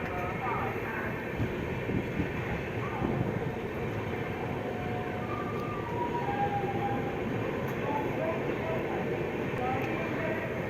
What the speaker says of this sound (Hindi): हमारी ट्रेन प्लेटफॉर्म नंबर 4 से स्किप कर रही है